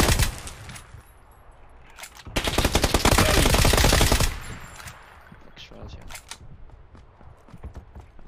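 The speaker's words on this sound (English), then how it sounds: "This was the guys that were shooting us" Gunfire rings out in the PUBG video game: scattered single shots, then a loud rapid burst lasting about two seconds, followed by further sporadic shots, with players talking around it.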